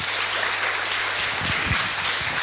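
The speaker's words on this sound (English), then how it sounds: "Big applause for Thomas Tsanev." Applause from the audience at a startup pitch competition as a speaker is called to the stage, a steady even wash of clapping throughout.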